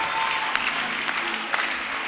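A church congregation at a Tuesday celebration service claps together, a brief dense wash of applause with a few sharper claps standing out.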